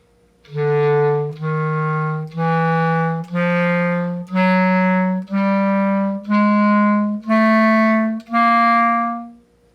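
Nine sustained woodwind notes of a beginner's chromatic scale on the right-hand fingerings, each held about a second with short breaks and stepping steadily upward in pitch, played alone, close and clear.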